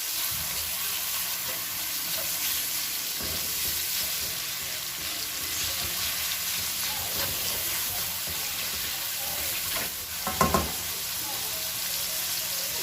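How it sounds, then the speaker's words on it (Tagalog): Tomatoes cooking in a pan give off a steady, close frying sizzle with occasional stirring scrapes and a few louder clatters near the end. "At ilagay na natin ang ating kamatis. Lutuin na muna natin sila."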